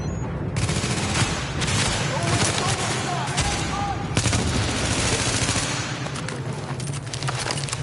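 Dense, sustained gunfire from a Tom Clancy's The Division firefight, bursts of rapid shots layered over one another, loud and close with a few sharp louder reports.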